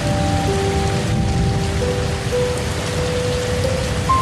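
Steady, dense rainfall at night in a Costa Rican rainforest around a treehouse, a loud continuous wash of drops on surfaces with faint sustained tonal hums running beneath, no voices.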